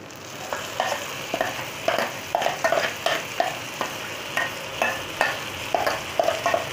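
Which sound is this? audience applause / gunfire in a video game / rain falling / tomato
tomato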